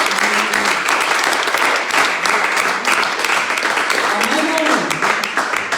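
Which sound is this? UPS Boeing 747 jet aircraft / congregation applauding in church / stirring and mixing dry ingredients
congregation applauding in church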